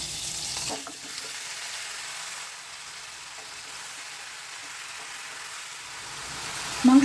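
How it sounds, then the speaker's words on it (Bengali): Marinated chicken pieces go into frying onions with a brief loud clatter and burst, followed by a soft steady sizzle and faint stirring, rising again at the end. "এখন এতে এই মাংসের টুকরোগুলো সব ম্যারিনেট করা মাংসটা সব দিয়ে দিচ্ছি"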